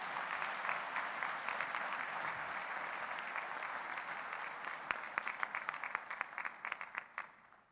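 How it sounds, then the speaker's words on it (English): Crowd applause fills a hall at a university graduation ceremony, a dense sustained roar of clapping that thins out toward the end into scattered individual claps before fading. "Give her a round of applause, please."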